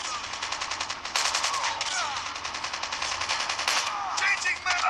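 Rapid automatic gunfire from Call of Duty played on a Razer Phone 2 rattles in dense bursts, a short-range weapon firing continuously with brief breaks, loud and close, with voices talking over the shooting.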